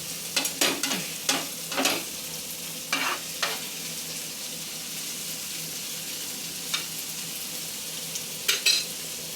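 Egg bhurji sizzles steadily in a hot pan while a spatula scrapes and stirs in sharp clustered strokes, close and fairly loud, with no talking.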